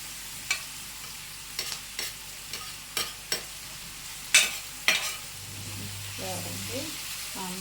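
Jella fish frying in a pan for curry, soft sizzle with a series of sharp scraping stir strokes against the pan, a louder clatter near the middle, and a faint voice toward the end.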